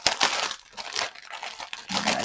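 Plastic bags of diamond painting drills are handled and torn open at close range, giving sharp, irregular crinkling bursts with short pauses in between and no talk.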